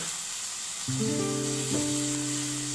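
Small chopped potatoes go into a hot pan of oil with turmeric for a potato palya, giving a steady close sizzle that grows louder when they land, along with a brief tonal squeal.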